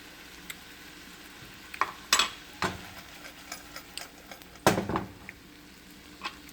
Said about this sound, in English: So your onions, they're starting to sweat down.